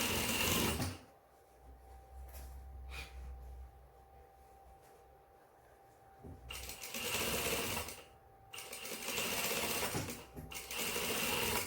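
A sewing machine runs along the waistline of a pair of pants in loud, rapid stitching bursts, separated by quieter pauses where the fabric is adjusted.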